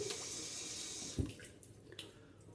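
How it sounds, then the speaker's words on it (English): Water splashes faintly at a sink while a face is being washed after a shave. A soft, steady trickle runs throughout, with a brief splash near the middle and another small one toward the end. "let me wash my face off"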